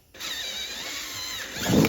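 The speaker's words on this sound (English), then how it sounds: "We're going to drill a hole." Power drill boring a hole through the rear bed door of a Yamaha RMAX 1000 UTV, a sudden close high whine holding steady, then a rougher grinding surge as the bit bites through.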